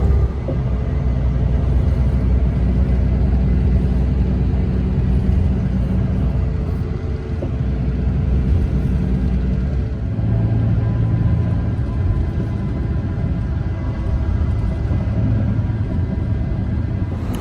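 A bus engine rumbles low and steady from inside the cabin during a ride between Singapore and Malaysia, a loud continuous drone with slight shifts in pitch and no talking.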